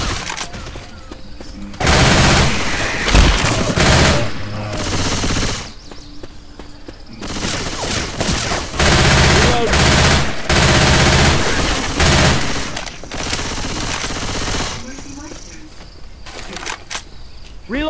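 Gunfire in Left 4 Dead 2, loud rapid bursts of automatic shots in several long volleys separated by brief quieter gaps, close and harsh, with occasional voices in between.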